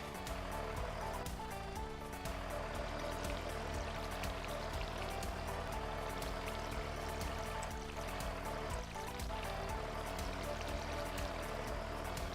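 A watering can sprinkles crops in Stardew Valley, giving a steady, continuous pouring splash layered over constant game background music, with no talking.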